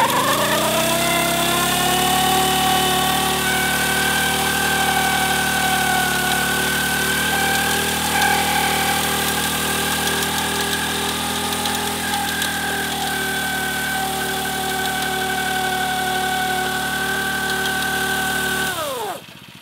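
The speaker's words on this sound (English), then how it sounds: "Let's try to do a burnout." Vehicle engine revving hard and held at high revs through an attempted burnout, a loud, close, sustained roar with slight pitch shifts that drops away abruptly at the end.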